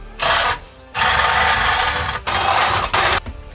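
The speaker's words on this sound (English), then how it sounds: "It's like something to deburr holes a little bit." Deburring tool opening up drilled holes in a car radiator support before welding: short repeated bursts of rough scraping grind with brief pauses between them, close and fairly loud, with no talking.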